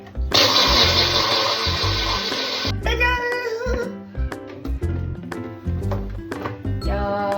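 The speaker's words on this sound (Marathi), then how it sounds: "जो बघा, यो मिक्सर आहे" Electric mixer grinder blending cold coffee at home makes a loud, close whirring roar for about two and a half seconds, then cuts off abruptly, leaving quieter clattering and background sounds.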